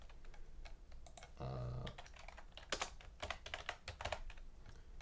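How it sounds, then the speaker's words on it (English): Keystrokes on a computer keyboard typing a search term into a package search box in Visual Studio, a run of quick close taps with a brief hum partway through and a short spoken filler. "So I typed in speech,"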